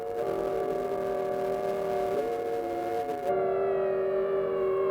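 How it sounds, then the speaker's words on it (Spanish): Factory and port sirens in Barcelona wail together in a steady, sustained alarm, layered tones holding loud and continuous with a slight pitch shift partway through. "La CNT hace sonar las sirenas de las fábricas y del puerto"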